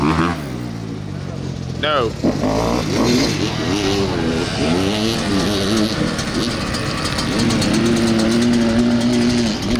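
A dirt bike fitted with aftermarket exhaust pipes revs and accelerates with a rising, wavering engine note, fairly close and loud, while people talk over it throughout.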